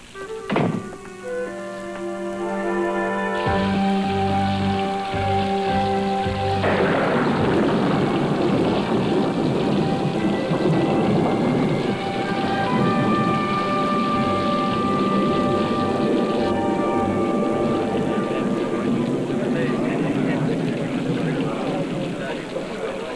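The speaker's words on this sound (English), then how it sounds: "it is teeming out there" Heavy rain pours steadily with rumbles of thunder, a dense wash of noise that runs through most of the stretch, with voices and sustained tones layered over it.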